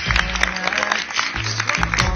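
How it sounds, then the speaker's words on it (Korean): A studio audience bursts into short clapping, dense and fairly loud, mixed with a few voices calling out. "그렇다면 박수"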